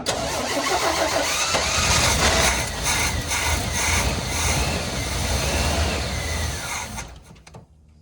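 A 1986 Chevy square-body truck engine, run again after years of sitting, cranks and fires, running with a loud, rattling roar close by before cutting off abruptly at the end.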